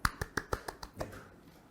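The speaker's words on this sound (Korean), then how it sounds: "박수 부탁드립니다." A few sharp, separate claps for a presenter at a business webinar, about six evenly spaced, crisp and close, that slow and die away within a second and a half.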